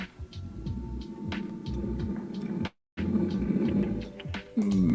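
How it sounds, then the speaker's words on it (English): Monster noise effect for a game: a low, rumbling roar-like drone with throbbing pulses, sustained and fairly loud, broken by a brief silence partway through before resuming. "we've got a nice monster noise here"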